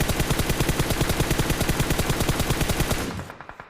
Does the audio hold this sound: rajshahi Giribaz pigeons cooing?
no